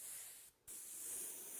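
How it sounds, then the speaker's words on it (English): Airbrush hissing out air and paint onto a motorcycle helmet during custom graphics work: a steady, close spray that cuts out briefly, then resumes just as strongly. "Spray a little bit of air and paint, a little bit of air first, then some paint so I don't get too wet."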